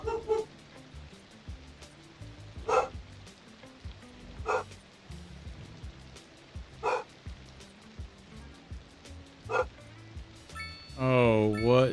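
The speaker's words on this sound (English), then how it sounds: "what is she barking at now?" A dog barks in short single yaps spaced a couple of seconds apart, fairly distant and faint, with a person speaking briefly near the end.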